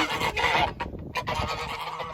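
Geese honk loudly and close by in a pasture: several harsh, overlapping calls come in quick bursts, with a short pause partway through.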